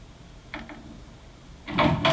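A door swings open in a quiet room, giving a faint brief creak or bump, then a louder rustling, scraping burst near the end.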